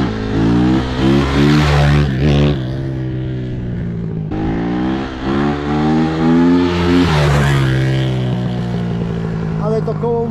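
A KTM dirt bike engine, just brought back to life after repairs, revs loudly and close by in two long rising-and-falling pulls with a brief drop between them, its harsh two-stroke-style buzz filling the clip.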